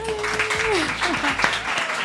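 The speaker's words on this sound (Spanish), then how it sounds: "Un aplauso para ella." An audience claps for a guest, Violeta Hódar of OT 2023, on a studio talk show hosted by Julia Medina. The applause is brief and steady, with voices and a tonal vocal sound over the clapping.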